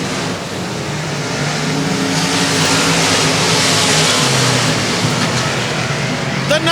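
Race cars at 281 Speedway produce a loud, continuous roar of engines that stays steady and dense throughout, with the pack swelling slightly near the middle.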